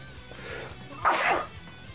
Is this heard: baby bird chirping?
no